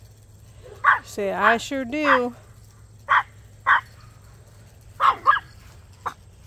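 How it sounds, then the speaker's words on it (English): Dogs in a neighboring yard down the street give several short, sharp barks spaced a second or so apart, with a person talking briefly partway through. "You hear the neighbor's dog?"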